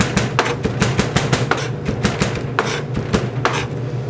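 A knife mincing onion on a cutting board, rapid rhythmic chops striking the board in quick close-up bursts with brief pauses.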